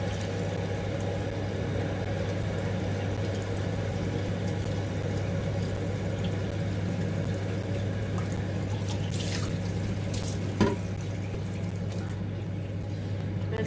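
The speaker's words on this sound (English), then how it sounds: "Wash his cup out, I think." Water runs steadily from a tap as a cup is washed, a constant near rush with a hum underneath, broken late by a brief clink.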